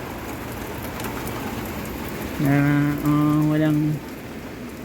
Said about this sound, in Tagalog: Lakas ng rain gently falls with falling down.